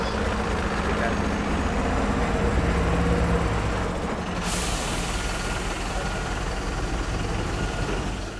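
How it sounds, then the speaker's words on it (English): Trucks arrive and park at a building site, producing a steady, loud engine drone with reversing beeps and a hiss of air brakes, continuous throughout with voices mixed in. "All the trucks are coming now, right now."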